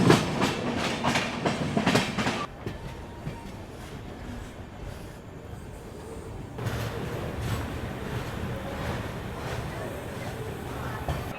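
The Varanasi-Pune Gyan Ganga Express pulling into Bhusawal at night, heard from inside the coach as a rumbling, rattling carriage with clacking wheels that quiets and then swells again.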